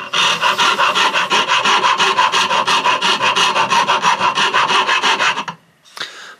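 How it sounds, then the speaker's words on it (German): Steady, rhythmic rasping of a hand file rounding off a corner of the wooden handle of an Opinel No. 09 Carbone knife held at an angle in a clamp, about twenty close, even strokes, then stopping with a brief scrape. "dass ich hier oben schön mit der Feile arbeiten kann und werde jetzt hier die Ecke abrunden"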